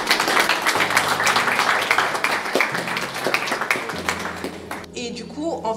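Audience at an arts and crafts fair applauding, steady clapping that carries on for several seconds, with background music and a voice speaking over it toward the end.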